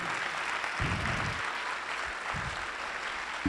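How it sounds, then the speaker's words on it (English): At an incubator pitch night, a student team gets steady, fairly distant audience applause, a soft continuous wash of clapping with a few louder thumps near the microphone. "give it up and a big clap for the team"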